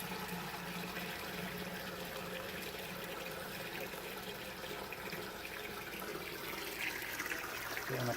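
Water from a tap runs steadily into a bucket for brewing a Munich Helles beer, a continuous close rushing splash that holds level throughout with no break.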